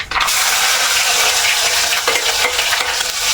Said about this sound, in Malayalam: വെളുത്തുള്ളി ഇടാം നമുക്ക്